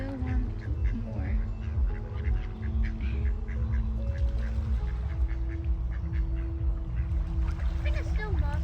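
Ducks and geese at a park pond after being fed bird food, with repeated quacks and honks scattered close by over steady low rumble, while people talk throughout.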